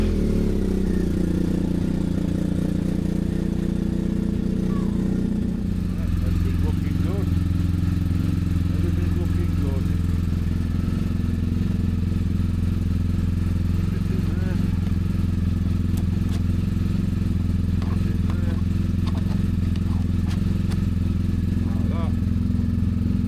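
A BMW R1250GS Adventure motorcycle engine idles steadily and loud throughout, a low continuous rumble with a faint voice over it.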